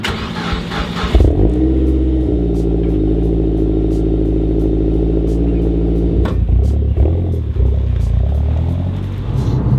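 A MazdaSpeed 3 on REV9 coilovers drives along with a steady, loud engine drone and road rumble, pulling up strongly after a brief quieter start and holding a constant hum throughout, with no talking.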